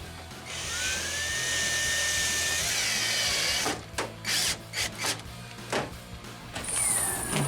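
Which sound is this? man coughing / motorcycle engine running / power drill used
power drill used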